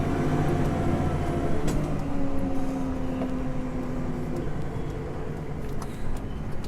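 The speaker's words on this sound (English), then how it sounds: "dropping the plough in for the last pull." A tractor pulls a plough through a field for the last run with its wheels spinning, giving a continuous loud engine drone with shifting tonal hum and no talk.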